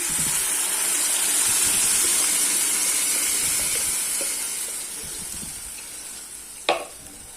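Onions and mashed brinjal sizzle steadily in a hot pan, a bright continuous hiss up close, with a sharp clink of a utensil near the end.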